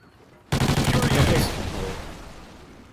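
Rapid automatic gunfire in the Call of Duty Ghosts video game, a loud sudden burst of fast repeated shots that starts abruptly and then fades into a long decaying rumble.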